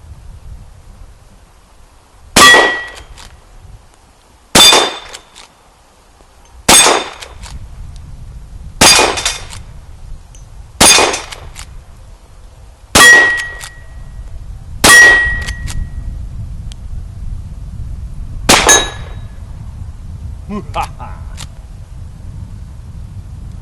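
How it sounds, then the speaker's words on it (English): Rifle shots from a Rossi M92 lever-action ring an 8-inch steel gong at 40 yards outdoors, giving eight sharp metallic clangs at a steady interval of roughly two seconds, each with a short ringing decay over light background noise. "Clear out at 40 yards, an 8-inch steel gong."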